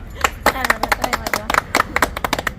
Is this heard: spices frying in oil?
no